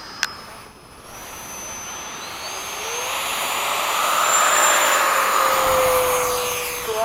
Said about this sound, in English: Ooh, I like your afterburner.